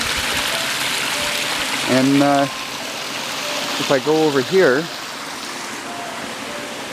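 A mountain stream on Mount Marcy flows in a constant broad wash, close and steady, while a person speaks briefly over it twice.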